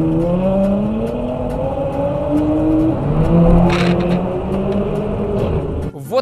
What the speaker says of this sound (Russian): Вот такие гонки устраивают на Московском проспекте.